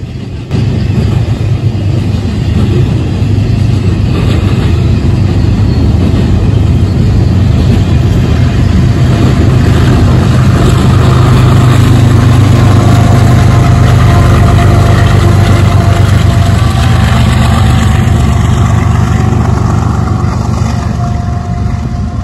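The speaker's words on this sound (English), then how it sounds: "it was a relatively short train, CSX's service designers still found it necessary to run it with a DPU" A CSX IO-10 freight train running with a DPU gives off a loud, steady diesel locomotive drone that holds for over twenty seconds with little change.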